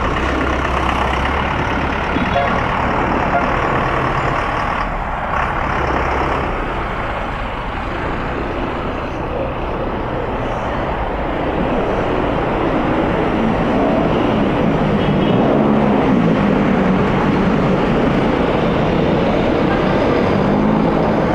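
Heavy rush-hour road traffic heard from a Honda PCX160 ABS scooter on a daily ride, a loud continuous roar of engines and tyres with passing heavy vehicles and wind rumble, steady for the whole stretch with no talk.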